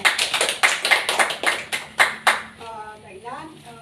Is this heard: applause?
yes